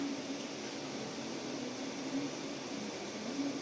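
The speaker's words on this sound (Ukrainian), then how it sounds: "я взяв ось такий фен, і ми будемо зараз перевіряти" A hair dryer blows hot air onto a temperature sensor, a constant, even rush of air with a low motor hum underneath, fairly quiet and unbroken throughout.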